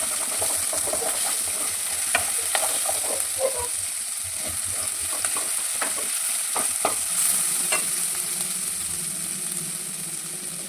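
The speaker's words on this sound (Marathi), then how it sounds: "यामध्ये म्हणजे अद्रक लसूण आणि मिरची आणि ही मिरची चांगली भाजून घ्यायची आहे" Green chilies, ginger and garlic fry in a pan with a steady sizzle and occasional stirring scrapes and clinks, with no talk.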